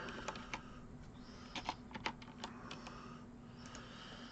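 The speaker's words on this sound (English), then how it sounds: "Let me just type that in real quick." Quick, light keystrokes on a computer keyboard come in short irregular bursts, faint and close, with a quiet room hum underneath.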